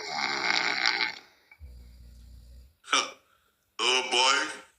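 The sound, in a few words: person snoring while asleep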